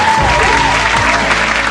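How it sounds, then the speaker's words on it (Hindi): A crowd at an Independence Day kavi sammelan claps loudly to welcome a poet to the stage, a dense, close burst of applause with a voice faintly underneath. "मंच पर जोरदार तालियों से स्वागत करते हैं।"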